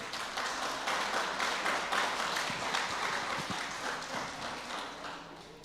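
Church congregation applauding loudly together, a dense steady wash of clapping lasting several seconds and slowly thinning toward the end, with a few faint voices underneath.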